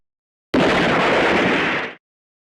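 A single gunshot rings out in a mansion, a loud, sudden blast that holds as a dense roar for about a second and a half before cutting off, with no voices.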